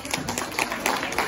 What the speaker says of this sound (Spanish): Un aplauso para la Virgencita.